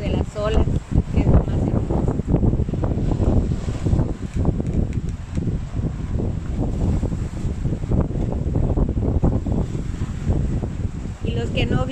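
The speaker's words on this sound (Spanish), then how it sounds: "Escuchamos el ruido de las olas." Ocean waves wash onto a beach at sunset, a steady low rumbling surge mixed with wind buffeting the microphone, continuous and fairly loud throughout.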